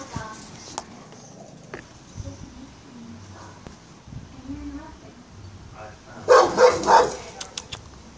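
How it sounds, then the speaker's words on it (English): A few loud barks from a dog close by, clustered near the end after a stretch of quiet background noise. "I think I hear him barking."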